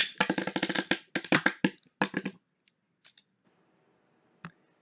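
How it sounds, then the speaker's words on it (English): A Beyblade set loose by a ripcord launcher: a quick burst of sharp ratcheting zips and clicks over about two seconds, then a few faint clicks and a light tap as the top runs on quietly. "Let it rip!"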